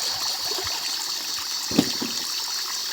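Water sloshing and trickling in a gold pan while panning for gold, a steady close wet wash with one brief splash near the middle, no voices.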